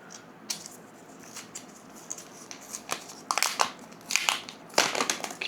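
Paper and plastic packaging crinkle and crunch as a Ugreen Nexode Pro 200W power bank is unboxed, in irregular bursts of rustling and tearing that grow louder and closer toward the end.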